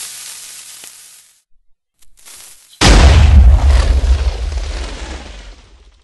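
A TNT cannon in Minecraft fires with a sudden loud blast after a quiet pause, followed by a crackling, fizzing rumble that slowly fades.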